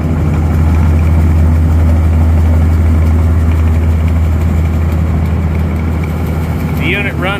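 A Clipper Super 68D seed separator runs with a loud, steady low drone and hum, smooth and even throughout. A brief chirping sound comes near the end.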